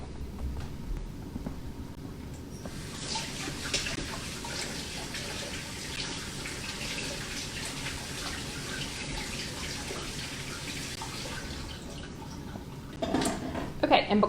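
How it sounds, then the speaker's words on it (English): Water runs steadily from a kitchen tap as someone rinses pizza dough off their hands, a continuous close splashing hiss that lasts nearly the whole stretch and grows slightly louder near the end. "let me rinse off my hands real quick"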